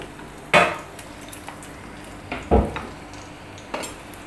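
Sliced onion frying in four to five tablespoons of oil, a low sizzle under several sharp clatters of a spoon scraping and knocking against the pot.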